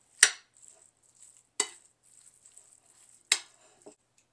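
A spoon or utensil clinks and scrapes three times in a bowl as calzone filling is mixed with olive oil, the sharp strokes spaced about a second apart with faint quiet between them.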